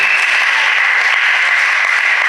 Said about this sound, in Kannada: ಟೀಮ್ ಅರ್ಲಿ ಬರ್ಡ್ಸ್ ತಂಡದ ಎಲ್ಲ ಆಟಗಾರರು ಜೋರಾಗಿ ಚಪ್ಪಾಳೆ ಕೊಟ್ಟು ತಮ್ಮ ಇರುವಿಕೆಯನ್ನು ತೋರಿಸಬೇಕು